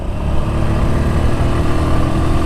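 A TVS Apache 200 4V motorcycle engine runs as the throttle opens, giving a loud, steady, close-up mid-pitched drone that holds even throughout without pause.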